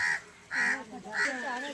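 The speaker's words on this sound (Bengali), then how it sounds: "তার মধ্যে চলে এলাম 3টে রাজহাঁসের বাচ্চা" Small geese give three short, nasal honking calls up close, evenly spaced, the last one drawn out and wavering.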